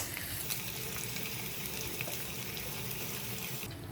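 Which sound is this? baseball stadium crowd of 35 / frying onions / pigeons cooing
frying onions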